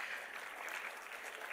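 Crowd applause at a university day celebration, a steady wash of many hands clapping at moderate distance, continuous and fairly faint with no distinct individual claps.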